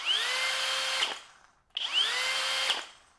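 A Flex hammer drill runs on speed two in turbo mode with two whining bursts of about a second each, each rising to full speed and then cutting off, close and clear.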